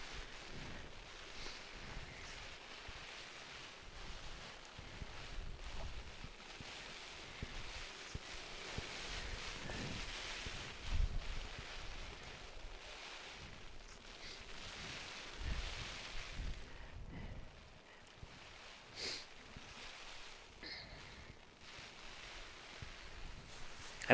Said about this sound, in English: I'm hanging on to my umbrella with two hands because it is coming down and it is windy